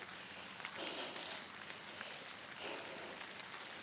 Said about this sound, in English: it's really starting to rain again